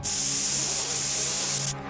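A continuous, loud hiss from an aerosol spray can of 'Smog in a Can' in a cartoon, held steadily for almost two seconds before cutting off abruptly.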